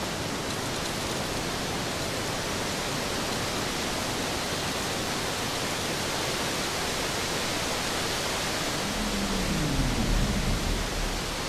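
Steady broadband roar of a waterfall in the video game Grow Home, loud and continuous throughout with no talk.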